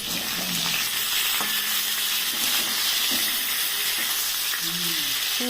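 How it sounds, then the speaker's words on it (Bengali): Katla fish fried in a pan, crackling in a steady, loud sizzle with bubbling oil, plus occasional light scraping and clinking from stirring, continuous throughout. "আমি এই মাছগুলো ভেজে উঠাচ্ছি"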